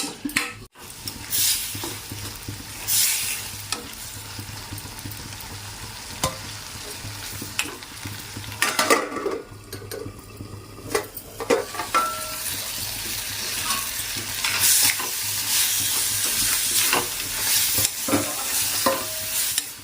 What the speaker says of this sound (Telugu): టమాటా కూడా వేసేసి బాగా మగ్గాలి